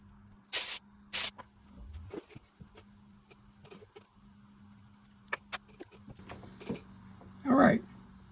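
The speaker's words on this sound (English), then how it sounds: "See if we can't blow any grit that's left in it out" Compressed air blows grit out of a Heddon 205R fishing reel in a few short, sharp hissing bursts close up, with quiet handling sounds between them.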